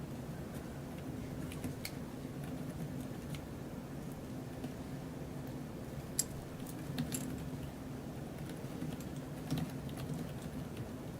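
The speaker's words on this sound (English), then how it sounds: "we're typing it in quickly" Rapid typing on a computer keyboard during a city council meeting, light clicks and taps running steadily under a low room hum and faint background murmur.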